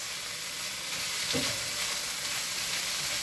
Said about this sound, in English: We can hear that sizzle.